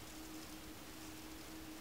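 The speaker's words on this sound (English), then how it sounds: "sorry, it's starting to rain" Light rain starts falling outdoors as a steady, soft hiss of drops, even and unbroken throughout.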